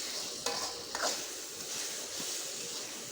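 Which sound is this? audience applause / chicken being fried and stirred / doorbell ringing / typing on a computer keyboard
chicken being fried and stirred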